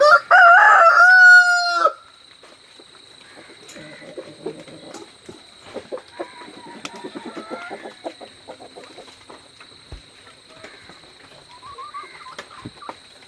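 Native chickens in a coop: a rooster's loud crow opens at close range, then stops, leaving softer scattered clucks and rustling from the flock with a faint steady hum behind.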